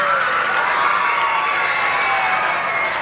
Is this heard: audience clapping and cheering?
yes